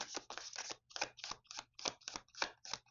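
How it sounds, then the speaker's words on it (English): Tarot cards are shuffled close by in a quick run of about a dozen crisp riffling flutters, each brief and papery, with no voice over them. "I'm going to show you the cards. I'm just going to shuffle."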